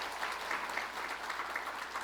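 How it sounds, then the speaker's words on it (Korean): A church congregation at a Korean Sunday service applauds in thanks, producing a steady, even wash of clapping that holds at moderate volume throughout, without any voices over it. "모두 우리 하나님께 감사의 영광의 박수 한번 드립시다"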